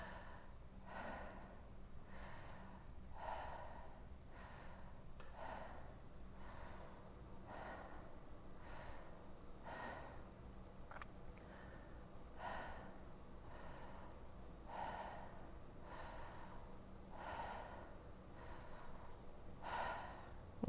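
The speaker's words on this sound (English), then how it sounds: "we don't want to breathe all of our air in, pause, and then exhale. Pause, and then inhale. So I'm going to demonstrate" Conscious connected breathing, with continuous rhythmic inhales and exhales and no pauses between them, heard close and alone in a hot room, each breath cycle repeating steadily about every second.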